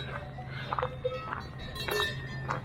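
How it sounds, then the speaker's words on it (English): Soft, irregular clanking of cowbells on grazing cows carries across an open Austrian Alpine pasture, some nearer and some farther, with faint rustling and footsteps in the background. "you can no doubt hear the musical cowbells"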